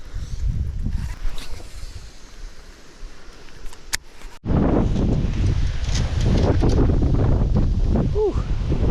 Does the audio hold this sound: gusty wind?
yes